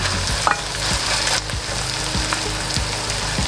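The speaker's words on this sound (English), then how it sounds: "And now we're gonna add the fresh ground beef" Fresh ground beef frying in a pan with sautéed onions, a loud continuous sizzle broken by the rhythmic scrape and clack of a utensil stirring the meat every half second or so.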